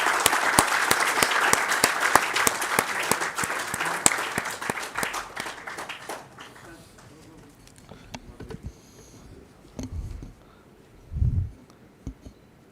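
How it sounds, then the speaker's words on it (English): Applause from an audience for speakers at an academic event fills the first six seconds, dense and steady, then fades into quiet room noise with a few soft bumps and murmurs. "please join me to give a round of applause to the speakers"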